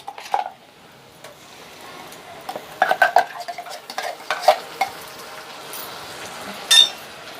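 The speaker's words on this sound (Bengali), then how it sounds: "ভালো করে আবার আমি মশলাগুলো কষাবো পেঁয়াজের সঙ্গে" Onions fried with ginger garlic paste and spices for a chicken curry are stirred in a pan, giving scraping strokes and clinks of a spoon over a soft sizzle, with bursts of stirring spaced through.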